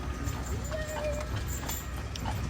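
A horse's hooves clip-clop as it pulls a carriage on a private tour in Savannah, Georgia, a steady quiet rhythm under a low rumble, with people talking nearby.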